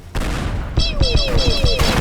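Rapid synthetic bursts and descending whistling tones repeat in quick succession as aircraft drop bombs in the game Teardown, falling and exploding, loud and busy throughout.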